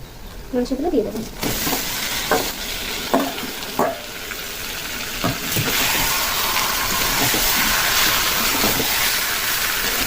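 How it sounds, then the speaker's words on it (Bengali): Marinated chicken sizzles in a hot pan with a loud, broadband hiss, punctuated early by stirring clatter, then settling into a steady frying roar. "এখন আমি সেই ম্যারিনেট করা মাংসগুলোকে দিয়ে দেবো।"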